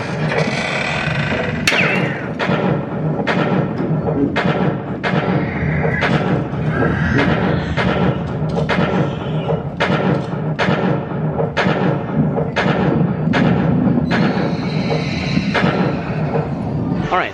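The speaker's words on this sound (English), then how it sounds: "I'm over here at the Frontierland Shootin' Arcade" Arcade guns fire at the Frontierland Shootin' Arcade shooting gallery, a series of about a dozen sharp cracks at roughly one-second intervals over a busy crowd murmur, with a voice speaking at times.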